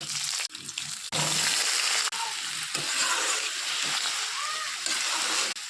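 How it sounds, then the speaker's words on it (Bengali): Cumin seeds and dried chillies crackle and spatter in hot oil, with stirring and a few sharp breaks in a loud, close sizzle. A voice talks over it. "তেল গরম হয়ে গেছে, জিরা শুকনা মরিচ ভেজে নিব"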